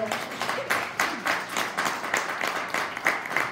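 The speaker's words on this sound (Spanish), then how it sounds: "dale un aplauso al Señor." A church congregation claps in a steady, even rhythm at moderate volume, with faint voices mixed in.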